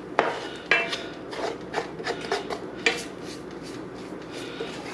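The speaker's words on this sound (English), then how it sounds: "now we have to mix this up until everything is evenly mixed" Spoon scraping and clinking in a bowl while mixing ingredients for holy mole smoked chicken, a series of irregular rubbing strokes and taps, close and moderately loud, with no talking.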